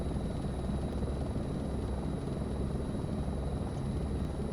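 Helicopter flying over the Methow Valley in Washington, heard from on board as a steady, loud broadband engine and rotor roar that holds constant throughout with no pauses.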